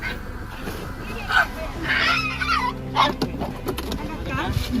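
Several thin, underfed dogs on an island bark and whimper in short, excited bursts, with high yips and whines over a noisy background of people and commotion as they are caught.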